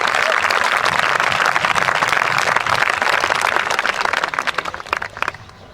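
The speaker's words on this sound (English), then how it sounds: "Let us put our hands together for a thunderous applause." Loud, dense applause from a large crowd of students at a school sports day, steady at first and then thinning out toward the end.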